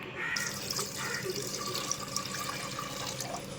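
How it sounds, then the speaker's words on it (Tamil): Water poured into a pressure cooker while preparing rice vathal: a steady splashing, trickling stream with small drips, fairly close and moderately quiet, without talk. "குக்கர் வந்து வச்சுருக்கோம் ஸோ நம்ம வந்து தேவையான தண்ணி இப்போ ஊற்றிக்கலாம்"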